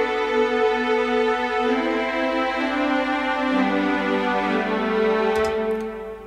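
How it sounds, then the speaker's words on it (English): Spitfire Epic Strings Originals orchestral strings play sustained, layered chords that shift pitch in slow steps, a full close ensemble sound that swells and then fades, with a couple of faint ticks near the end. "And the strings I've chosen are Epic Strings Originals by Spitfire"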